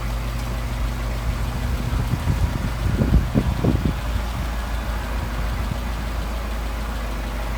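An engine fitted with Solex carburetors runs at a steady low idle hum, with a short burst of rougher, uneven knocking beats midway as the mixture is adjusted and revs sag.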